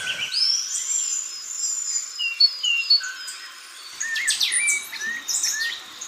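Recorded bird songs and calls play from a bird identification app covering Brazilian birds, a run of thin, high chirps, whistled notes and trills, fairly clear against a quiet background.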